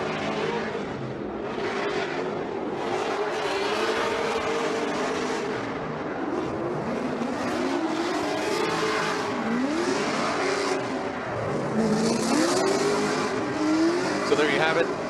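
A V8-powered Nissan S14 drift car at a Formula Drift Seattle Top 16 battle roars continuously with rising and falling revs and tire squeal, heard under an announcer's commentary.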